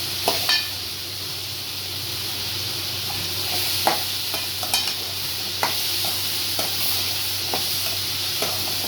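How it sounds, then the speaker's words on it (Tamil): Tomatoes sizzle in a pan for a pepper bitter gourd stir-fry, a steady frying hiss broken by repeated sharp scrapes and clicks of a spoon stirring against the pan, close and clear with no talking. "தக்காளி கொஞ்சம் வதங்கி வைப்போம்."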